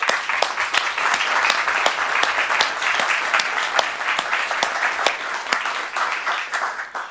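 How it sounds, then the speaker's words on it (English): Sustained audience applause at a maritime technology conference session, dense steady clapping from a large crowd filling the room, loud and continuous before tapering slightly at the end. "So I think we should give them all a big hand of applause."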